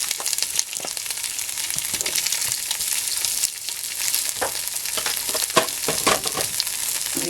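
Pork frying in about a tablespoon of cooking oil in a pan, a dense, continuous crackling sizzle with sharp spitting pops, close and loud with no talking.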